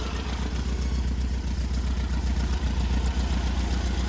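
Engine idling steadily at about 500 RPM on a freshly rebuilt Weber 44 IDF carburetor, a close, even low-pitched rumble with a regular chuffing pulse and light mechanical clatter throughout.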